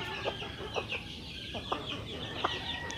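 Rhode Island Red chickens in a small backyard pen give a series of short, repeated clucks at a steady moderate distance over a constant low farmyard hum.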